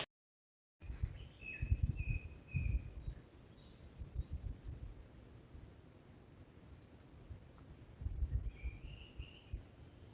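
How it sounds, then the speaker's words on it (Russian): Birds sing in a spring taiga forest, thin chirps and short whistled phrases coming from a distance, faint over low rustling and handling noise with no talk. "Птички поют."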